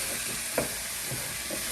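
Potatoes and fenugreek sizzling in a pan while being stirred, a steady hissing fry with a brief scrape of the spoon, no talking.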